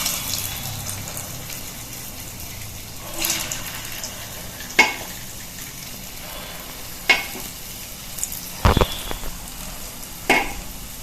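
Urad dal pakora batter dropped into hot oil over medium heat, a soft continuous sizzle with a few sharper splashes and crackles as pieces go in one after another.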